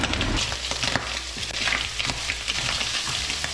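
Crushed garlic sizzles and fries in a pan with bacon for a chicken carbonara, a steady close crackle broken by the scrape and clatter of stirring, with no talking.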